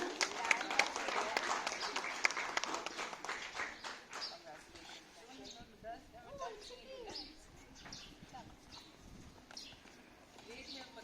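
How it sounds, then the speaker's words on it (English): A school audience at a Mission Shakti awards ceremony claps in a burst of applause that fades after a few seconds, leaving scattered sounds and faint background chatter. "Please clap for her."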